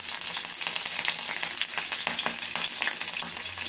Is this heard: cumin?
yes